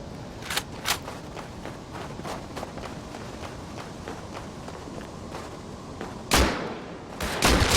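AK rifle gunfire in the survival game Rust during a PvP fight, a few sharp bursts spread across the clip, with footsteps and running in between and a louder, heavier volley near the end.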